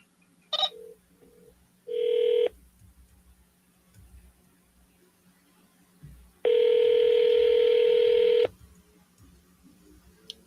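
A landline call rings out: a short burst of dial beeps, a brief tone, then after a quiet gap a steady two-second ringing tone on the line, clear and alone.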